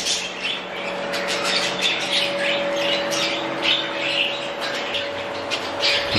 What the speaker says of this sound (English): Okay, we're in the bird room here.